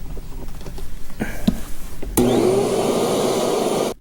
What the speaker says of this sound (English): the motors on these things are super loud